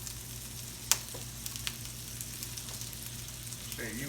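A buttered burger bun laid onto a hot skillet gives a steady, soft sizzle, with a sharp clack as it goes down and a few faint clinks, no voices.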